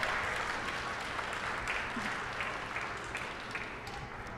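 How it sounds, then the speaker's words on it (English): Audience applause at a Day of AI celebration in the Museum of Science, Boston, honoring a student project; steady, moderately loud clapping from a crowd, fairly even throughout without voices. "So please applaud Doktung."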